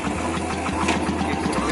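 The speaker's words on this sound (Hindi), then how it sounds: "तो किक मार के आप करेंगे बाइक को स्टार्ट" A kick-started Royal Enfield motorcycle engine settles into a steady, low thumping idle nearby, with even rhythmic pulses and no talk over it.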